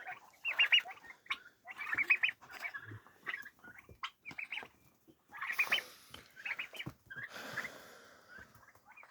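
A small flock of broiler chickens clucks and chirps in short, scattered bursts close by, with light rustling as they move about during hot, dry weather.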